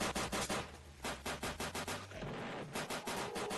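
Rapid, dense bursts of automatic gunfire in the video game Final Stand 2, loud and close, with repeated stuttering volleys and short gaps between them.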